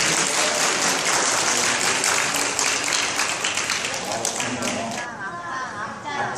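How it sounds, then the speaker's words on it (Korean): Audience applause at an elementary school orchestra summer camp, a loud, dense burst of many hands clapping throughout, easing slightly near the end. "박수 한번 보내주십시오"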